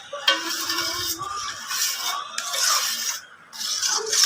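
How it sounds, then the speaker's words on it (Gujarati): Mohanthal mixture of gram flour being stirred in a pan, a soft continuous scraping and rubbing with occasional light clinks of spoon against metal, close and steady with no talk. "હવે આને 5 મિનિટ હલાવી લઈશું, તો આપણું એકદમ બધું મિક્સ થઈ જાય."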